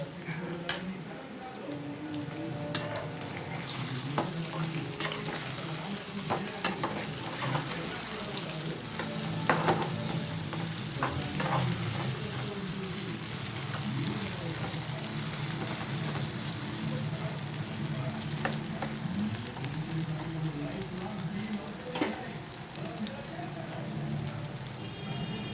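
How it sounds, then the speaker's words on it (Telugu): Prawn pakoda deep frying in hot oil gives a continuous bubbling sizzle with scattered crackles and occasional stirring clinks, close and moderately loud. "ఇవి బాగా డీప్ ఫ్రై అవ్వాలండి."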